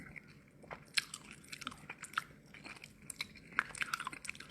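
Close-up eating of rice mixed with sambal, with repeated soft crunchy bites and chewing in an irregular rhythm, quiet and near, with no talking.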